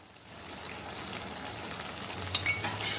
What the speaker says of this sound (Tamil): சேர்த்துட்டு இதை லைட்டாக வந்து கிளறிடலாம்.